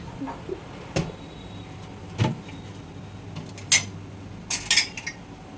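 Dishes and metal utensils are handled in a home kitchen, giving a few scattered clinks and clatters, with the last ones bunched closer together, against a quiet background and no talking.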